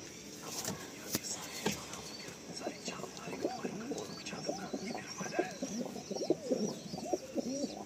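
Giribaj pigeons coo in a loft full of birds, soft repeated throaty calls close by, with quiet voices murmuring underneath.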